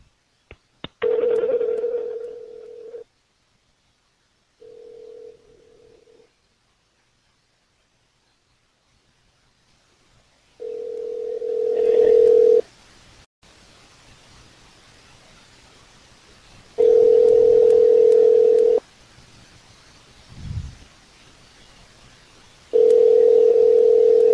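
A phone call rings out unanswered: steady repeated ring tones in separate bursts with quiet gaps between, loud and close, with a brief low thump partway through and no talking.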